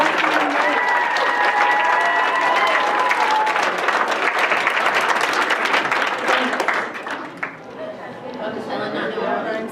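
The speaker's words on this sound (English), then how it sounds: "Final round of applause for Best" Sustained audience applause at a NERDCON 2013 convention costume contest, loud dense clapping with crowd chatter and cheers, tapering toward the end.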